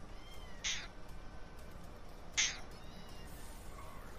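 Two short cat meows, separated by a couple of seconds, fairly close and clear over a quiet room background.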